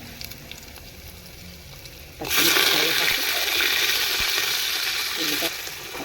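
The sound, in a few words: spices tempering and frying in oil for daliya upma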